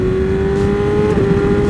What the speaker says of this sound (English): I was a little bit worried that the exhaust was going to be too loud, but it actually sounds completely fine.